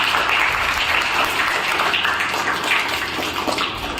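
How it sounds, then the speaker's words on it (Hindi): A crowd applauds steadily and loudly, dense clapping filling the whole stretch without pause. "तालियां एक बार लवीश के लिए।"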